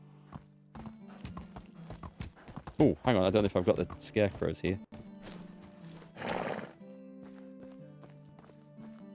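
In the video game Medieval Dynasty, horse hooves clatter under a speaking voice, with a loud whinny bursting out partway through over quiet background music.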